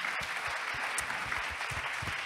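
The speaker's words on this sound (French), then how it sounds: "On peut les applaudir pour leurs interventions" Steady audience applause for speakers at a pitch session, a dense patter of many hands clapping at moderate distance, fairly soft and continuous with no voices.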